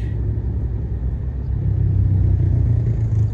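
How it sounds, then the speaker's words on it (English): Heavy New York City road traffic rumbles past a car driving on the FDR Drive, a loud, close, continuous low roar of engines and tires that swells slightly toward the end. "And now look at all this traffic."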